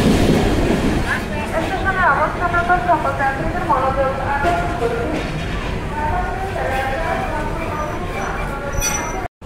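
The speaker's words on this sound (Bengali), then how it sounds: "ট্রেন প্রবেশ করলো ঢাকার বিমানবন্দর রেলওয়ে স্টেশনে" A passenger train pulls into Dhaka Airport railway station, its wheels clattering and squealing nearby in a loud, steady rumble that slows over several seconds, while voices talk on the platform.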